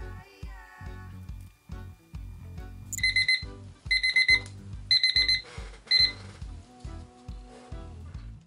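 A timer alarm rings after a five-minute countdown while beverage coasters are being made, sounding as several loud, bright bursts of repeated high beeping between low rhythmic background beats.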